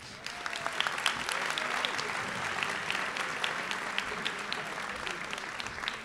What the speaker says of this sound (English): to please stand so we could give them a round of applause